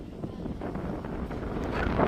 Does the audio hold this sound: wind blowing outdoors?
yes